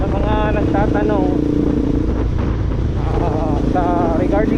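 A 2022-era Bajaj Pulsar NS200 motorcycle with internal upgrades is ridden along a road on a fine day, its engine droning steadily up close, mixed with wind, while a rider talks over it throughout.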